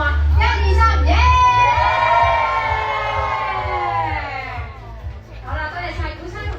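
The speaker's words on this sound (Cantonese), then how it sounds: "嚟多次歡呼聲俾我哋 video 嘅同事影好嘛？" A crowd of fans at a live promotional event for a tasting session cheers and shouts together in a loud, sustained burst that slowly fades, then rises again briefly near the end.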